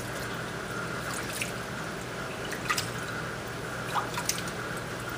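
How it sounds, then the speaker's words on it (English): Faint water drops fall onto coral glue in an aquarium, a few soft scattered drips over a steady background hum. "take your fingers and just put a little water up on it"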